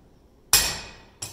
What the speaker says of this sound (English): as I hammer, I am going to draw my hammer down through the anvil